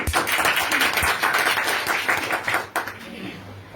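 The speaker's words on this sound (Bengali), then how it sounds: "ডিএক্সএনের জন্য একটা জোরে করতালি।" A loud round of clapping from a gathered group, dense close hand claps that run strong for a few seconds then break off, with voices mixed in around the end.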